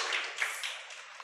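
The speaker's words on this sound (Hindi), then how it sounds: "ताली बजाओ इसके लिए, ताली बजाओ." Several children clap their hands at a summer camp, a soft, quick patter of claps heard from a little distance, with no talk.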